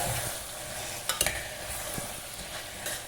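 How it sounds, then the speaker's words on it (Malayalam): Chopped tomatoes sauté in a cooker pan for a homestyle mutton curry. A low, fairly faint sizzle continues with a few sharp spoon scrapes and knocks near the middle. No voices are heard. "ഇനി ഇതിൻ്റെ അകത്തേക്ക് തക്കാളി മുറിച്ചു വിടുന്നുണ്ട് ഇനി ഇതും നല്ലോണം വഴറ്റുക"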